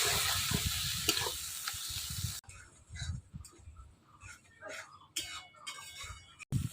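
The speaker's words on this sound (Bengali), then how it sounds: "মশলাতে যত সময় তেল না ছাড়ে তত সময় কষাবো।" Spice paste sautés in oil in a wok for a Bengali fish curry, giving a soft hiss of sizzling at first, then quieter, broken stirring and frying sounds with pauses.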